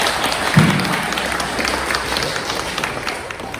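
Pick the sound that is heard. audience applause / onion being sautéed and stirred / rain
audience applause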